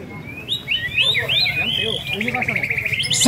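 A white-rumped shama (murai batu) sings at a songbird contest in a Palembang housing estate, giving a run of bright, rapid whistled phrases and trills close by, with crowd chatter and background noise underneath.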